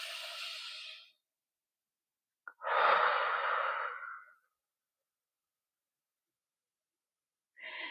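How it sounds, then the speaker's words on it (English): Slow, deliberate breaths: a long airy exhale fades out, a quieter stretch follows, then a second full breath swells and dies away, with another breath starting at the end, close and soft, no talking. "pausing to breathe."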